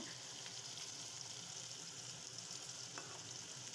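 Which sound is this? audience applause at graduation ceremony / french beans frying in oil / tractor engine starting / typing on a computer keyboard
french beans frying in oil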